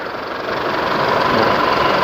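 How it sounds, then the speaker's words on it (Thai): An Isuzu D-Max pickup engine idles steadily nearby during a direct-connect injector cleaning, a continuous, even rumble without voices. "เราก็จะเดินเครื่อง"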